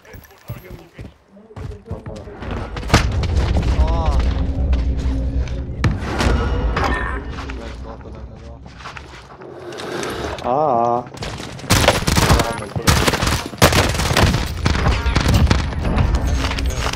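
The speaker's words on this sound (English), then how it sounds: "Oh, someone else shooting." Bursts of gunfire in the video game Warzone during a last-circle fight, with sharp shots and thuds throughout, mixed with game sounds and occasional talk.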